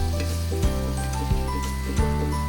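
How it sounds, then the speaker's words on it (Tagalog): Onion drops into a pan with crushed garlic for ginataang pagi, stingray in coconut milk, giving a steady sizzle over a low hum, broken by a few soft thuds. "ilalagay na namin ang sibuyas"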